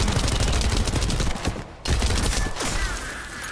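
A submachine gun fires in rapid sustained bursts during a fight in the video game The First Descendant, loud and close, with one brief pause before the stream of shots resumes.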